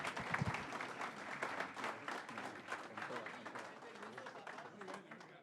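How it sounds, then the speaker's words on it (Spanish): Audience applause for José Manuel Restrepo at a conversation event in Medellín, a crowd clapping steadily from a distance, faint, with a voice heard briefly at the start. "Un aplauso a José Manuel Restrepo"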